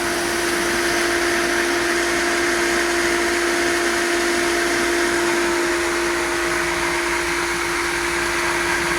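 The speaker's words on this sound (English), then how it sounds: "We'll start with starting the pump." A pool pump runs at a steady loud whine and hum with a sustained tonal drone, filling the whole stretch without letting up.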